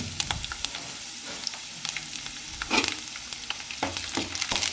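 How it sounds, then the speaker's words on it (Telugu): Onions fry in a pan until golden for a chilli pickle, a soft sizzle broken by intermittent stirring scrapes and clicks, close but fairly quiet, with no talking. "అది ఉల్లిపాయలు వేగినాక గోల్డెన్ కలర్ రావాలి."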